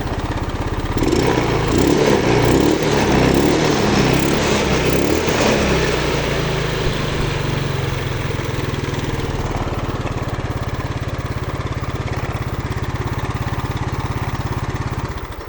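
A carbureted Yamaha Mio motorcycle engine runs steadily at idle with the choke off, a loud continuous low putter with a brief rougher burst near the start, no talking.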